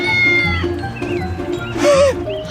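Several kittens meowing in high, wavering cries, a few thin mews followed by a louder, drawn-out wail near the end, close by over a murmur of background noise.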